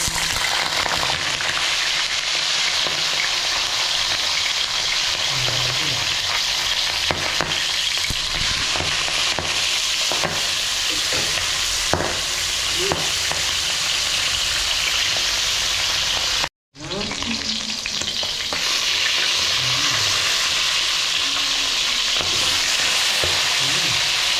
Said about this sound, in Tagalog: Prito na tayo.